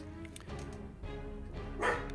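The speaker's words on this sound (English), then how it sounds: "Please excuse the annoying dog in the background." A dog barks a few times in the background, fairly faint and spaced out over a steady low hum, with one slightly louder yip near the end.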